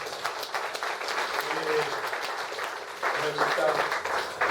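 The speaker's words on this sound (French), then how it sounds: "On applaudit dans l'église." Applause from a congregation inside a church, a steady patter of many hands that swells louder toward the end, with voices and murmuring mixed in throughout.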